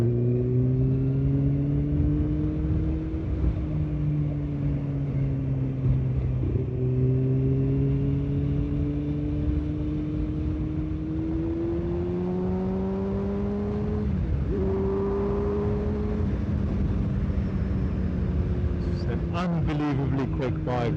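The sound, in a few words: 2015 Kawasaki Ninja ZX-6R motorcycle accelerating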